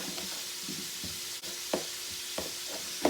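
Soft, steady sizzling of kielbasa frying in a skillet, with a few light clinks and scrapes of a utensil stirring now and then.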